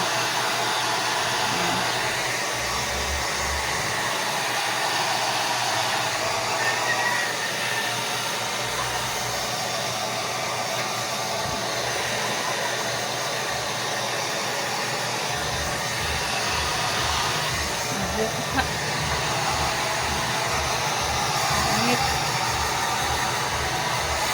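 A hair dryer blows steadily on a pet with a brown face, a loud continuous whooshing roar that runs throughout with slight shifts in pitch and low rumble, no voices.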